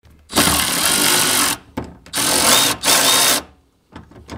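A power tool spins out two 10 mm bolts holding a fuel pump, with two loud, close bursts of whirring, each about a second long, followed by faint small clicks.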